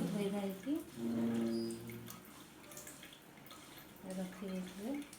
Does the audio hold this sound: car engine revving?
no